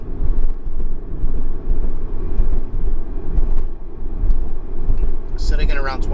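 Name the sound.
Remark exhaust on Mazda MX-5 Miata cruising in 4th gear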